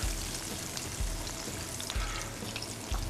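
A large deep-fried tilapia is lifted out of hot oil, which keeps up a dense, loud crackling sizzle, with soft low thumps recurring about once a second.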